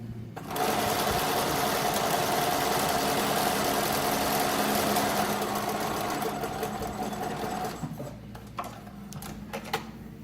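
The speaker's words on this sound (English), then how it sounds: "I'm just going to top stitch all the way around this" A sewing machine runs a long continuous top-stitch around the edge of a faced, interfaced fabric piece, a fast even whirring rattle close to the mic that stops near the end, followed by a few small handling clicks.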